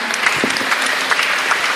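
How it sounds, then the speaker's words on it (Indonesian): Audience applause at an awards event in Palu, Indonesia: a brief, dense, loud burst of continuous clapping from a crowd. "Tepuk tangan dong sekali lagi semangatnya."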